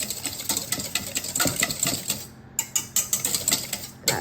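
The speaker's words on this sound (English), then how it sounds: "We have an egg. We're gonna beat that up with our whisk here." An egg is beaten briskly with a whisk in a bowl, giving a fast run of close rattling clicks with a brief pause before the rhythmic whisking resumes, no voices.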